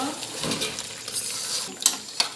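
A spoon scrapes and clatters through mutton kosha with potatoes in a cooking pot, short irregular stirring strokes with a faint sizzle and a couple of sharp metallic knocks near the end.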